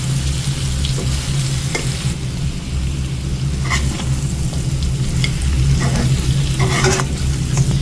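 Spicy chicken igguru dry fry sizzles loudly in a pan, a dense, steady crackle close up, broken by occasional scraping stirs.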